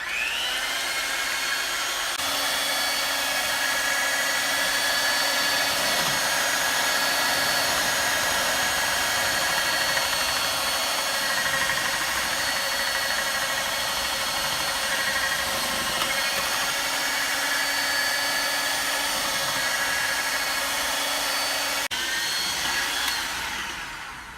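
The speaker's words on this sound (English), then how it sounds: "Now you're going to want to take your hand mixer and beat them." Hand mixer beating egg whites with a pinch of salt for macarons, a steady loud high whine running nearly unbroken from start to finish, alone with no talk.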